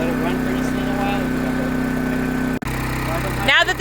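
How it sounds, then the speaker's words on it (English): A propane-fuelled generator on a 2026 inTech Sol Horizon trailer runs at a steady, close idle with a constant mechanical drone, broken once by a brief dropout before it settles back to its even hum. "Now that the generator is started"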